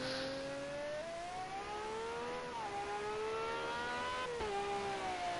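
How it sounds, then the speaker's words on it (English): A high-pitched 4-litre V12 race car engine screams steadily in the distance during qualifying at Spa, pitch rising as it climbs through gears with brief dips at each shift. "Really hear that 4 litre V12 absolutely scream."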